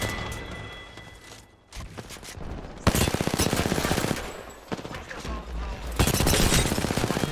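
Gunfire in the video game Apex Legends: bursts of rapid automatic shots crackle loudly, with a quieter stretch early on, then sustained volleys returning in two heavy waves.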